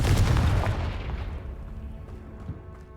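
A Confringo fire blast spell exploding in Hogwarts Legacy, one loud booming burst at the start that rolls off and fades over a few seconds.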